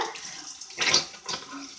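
Tap water runs and splashes at a sink while someone washes their face, with a couple of short splashing surges heard close up and no talk.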